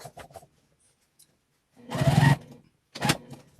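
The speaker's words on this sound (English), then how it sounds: "I like to back stitch right there" A sewing machine back stitches a seam on a Christmas car trash bag, two short whirring bursts of stitching separated by silence, with a few quiet sounds before.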